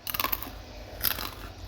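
Homemade Lebaran cookies are bitten with a couple of crisp, crackly crunches close to the mic, quiet and without talk.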